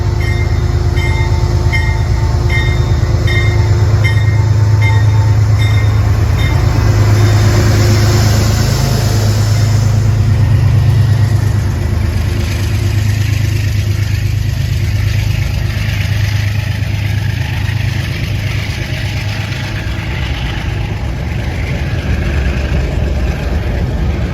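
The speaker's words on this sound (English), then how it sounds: "One of the P32 ACDMs." P32 AC-DM locomotive-hauled train at Penn Station, a loud steady rumbling drone with horn-like tones in the first seconds that fade away, heard alone without talk.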